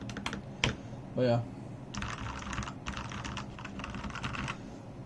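Typing on a Redragon K552, a $30 hot-swappable mechanical keyboard fitted with lubed Outemu Ice Purple switches: dense, steady clacking bursts close up, with a brief spoken phrase early on.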